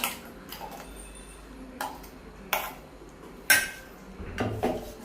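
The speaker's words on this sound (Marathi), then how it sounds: "चला तर आपण हे मिश्रण वाटण एका भांड्यामध्ये काढून घेऊया।" Ground masala paste for masala dosa is scraped from a grinder jar into a vessel: a few sharp metallic clanks and scrapes, spaced apart, over quiet kitchen background.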